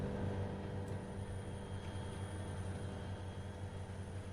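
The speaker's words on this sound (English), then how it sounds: "This train's really loud now." Steady low rumble and drone of a train in Trainz Simulator 3, an Australian rescue mission with a pilot train, running continuously at fairly even, moderately loud level with no voices.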